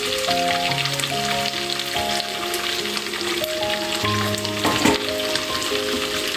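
Ground coconut and yogurt paste frying in a pan for biryani, a loud dense sizzle like heavy rain with a few stirring knocks and one sharper clatter near the end, no speech.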